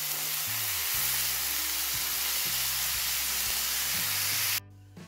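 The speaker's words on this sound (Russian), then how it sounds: "Все протушим. Чуть-чуть поджарим." Bell peppers cut into large pieces fry and stew in a pan with a steady, close sizzle and hiss, while low thumps from stirring keep time underneath; the sizzle cuts off near the end.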